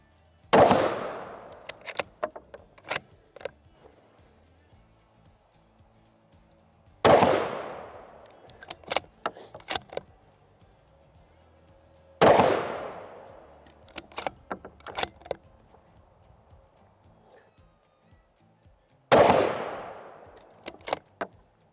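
A SIG Cross Sawtooth rifle chambered in 6.5 PRC fires four loud, widely spaced shots outdoors. Each blast rings out with a long echoing decay, and bolt cycling and handling clatter follow each shot.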